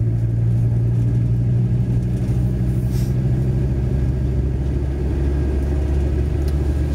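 Car engine cruising while overtaking on a road in Falkirk District, Scotland: a steady low in-cabin rumble and drone, loud and constant with no clear speech.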